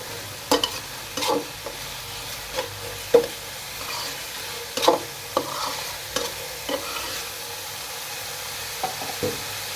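Masala spices fry in a pan for an aloo and loitta shutki bhuna while a spoon stirs and scrapes steadily, with sharp clinks and scrapes over a low, continuous sizzle, close up and with no talking.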